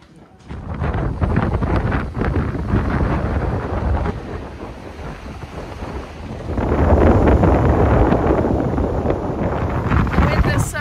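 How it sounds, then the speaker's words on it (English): Strong wind buffets the microphone outdoors in the town of Rye in East Sussex, England, with loud rumbling gusts that ease briefly midway and then surge back harder. "It is just so windy, you guys."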